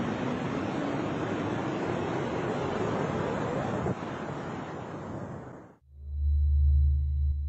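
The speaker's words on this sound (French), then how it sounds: "Ça, c'est le bruit d'un trou noir." A NASA space recording of a black hole: a broad roaring hiss rushes on like wind or surf, then cuts off abruptly and gives way to a deep, booming low hum.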